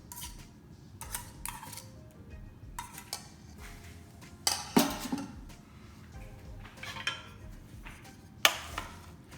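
Yogurt mint dressing being stirred through chopped apples in a bowl, with scattered clinks and scraping taps of a utensil against the dish, irregular and fairly close, with quiet stretches between.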